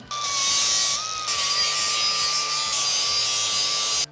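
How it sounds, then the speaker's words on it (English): An angle grinder with a fibre sanding disc whines steadily as it scrapes against steel, a loud continuous abrasive hiss with a high motor tone, briefly rising in pitch. "I've just got the grinder with the fibre sanding disc on it."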